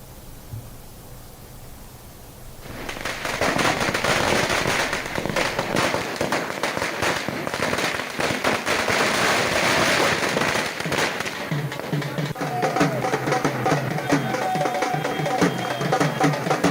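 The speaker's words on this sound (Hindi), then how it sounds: "प्रदेश कांग्रेस कमेटी कार्यालय पर पटाखे फोड़े जा रहे हैं और जश्न मनाया जा रहा है।" Firecrackers burst in a dense, continuous crackling barrage at a Congress party office celebrating a by-election win in Sardarshahar, loud and near, rising after a quieter start and running on without pause.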